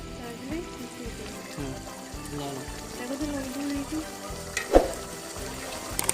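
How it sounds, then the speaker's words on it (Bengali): Shrimp bhuna frying in a pan over high heat, a continuous sizzle with stirring scrapes and a sharp clatter near the end, steady and close. "5 মিনিট হাই হিটে রান্না করা হলো আমাদের চিংড়ি মাছ ভুনা।"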